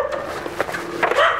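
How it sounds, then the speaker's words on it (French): Dogs barking at passers-by on a street in Oaxaca, Mexico, several sharp, fairly close barks and yips in quick bursts over a steady background hum. "il y a les chiens qui nous aboient dessus"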